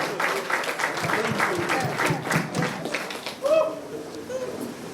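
A crowd at an annual general meeting applauds a speaker with scattered, uneven clapping that thins out toward the end, while a voice speaks over it.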